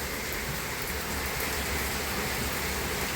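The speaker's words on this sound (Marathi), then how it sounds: "एवढा कुठं कुठं पाऊस आहे सांगा एवढा" Heavy night rain from a cloudburst drums down outside in a thick, continuous wash of sound, loud and steady with no pauses.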